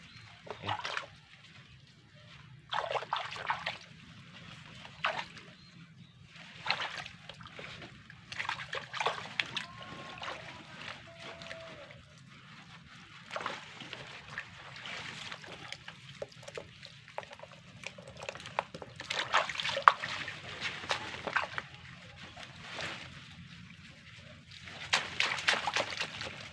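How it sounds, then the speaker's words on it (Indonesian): Water is poured and splashed in short bursts while the water is changed for an aglonema cutting, with sloshing and trickling at close range and quiet gaps between pours. "Kita ganti airnya ini, kita ganti dulu airnya supaya bersih ini."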